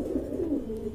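A pigeon coos at a pigeon farm in a low, close, rolling call, a couple of soft throaty swells with no talking.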